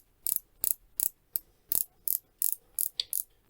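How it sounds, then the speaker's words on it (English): Ratcheting bezel on a Pagani Design PD1651 Yacht Master-style watch turned click by click, giving about ten crisp, close, evenly spaced metallic clicks with no voices. "let's talk about this bezel. So it sounds quite nice"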